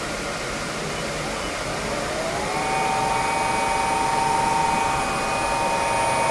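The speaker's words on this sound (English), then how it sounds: "Now we are carefully applying the maximum load to the shaft and starting up our test motor." An electric test motor on a test stand starts up with maximum load applied to its shaft, a steady loud whoosh with a tone rising in pitch as it spins up, close and continuous.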